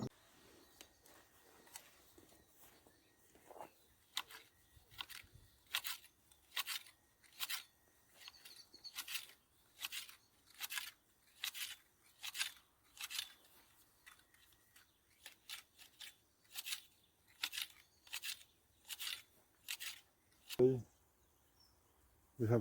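Blunt hand shears cutting through bigger garden weeds: a steady series of crisp snipping clicks, roughly one per second, close and fairly quiet, with a brief thump near the end.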